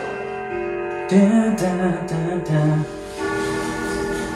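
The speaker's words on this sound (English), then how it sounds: "that's the grandfather clock. Let's see. It's going to chime, so I'm going to wait." A grandfather clock at home striking six o'clock: a series of resonant bell-like chime tones ringing out one after another over a steady faint background, close and clear, with no talking.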